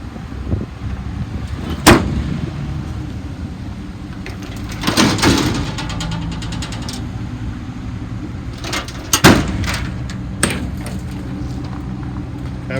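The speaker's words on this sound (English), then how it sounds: "All the doors open and close." Metal cabinet doors on the utility bed of a 2011 Ford F-350 XL work truck bang shut and rattle open one after another, with several sharp, loud slams spread out between quieter handling noises.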